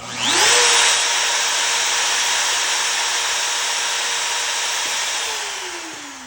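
An X-Carve CNC router spindle with a high-speed steel bit spins up to a loud, steady high-pitched whine, holds for several seconds, then begins to wind down at the end.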